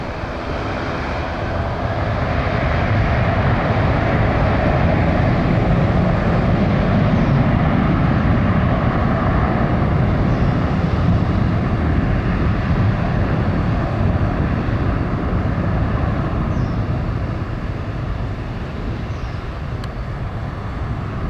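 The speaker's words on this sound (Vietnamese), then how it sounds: "Chiếc máy bay của HiFly bắt đầu chạy đà để cất cánh." A HiFly Airbus A330-200 takes off at Noi Bai airport. Its jet engines build into a loud, steady roar during the takeoff roll and hold that level for about twenty seconds before easing slightly. No one speaks.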